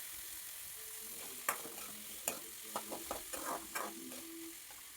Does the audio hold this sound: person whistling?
no